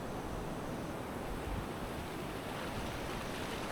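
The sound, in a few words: ocean waves rolling and splashing on a Costa Rica beach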